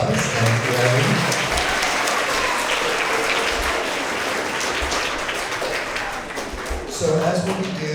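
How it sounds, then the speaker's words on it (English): A school end-of-year award assembly audience for grades three to five claps in a sustained round of applause, dense and continuous, with voices mixed in near the start and end. "Let's give Abby another big round of applause."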